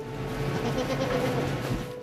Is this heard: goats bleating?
yes